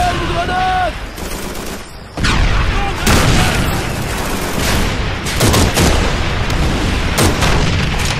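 Grenade blasts and gunfire in a Call of Duty 3 battle on the road to Falaise, with a sharp explosion after a brief lull and then sustained loud combat noise with scattered shots.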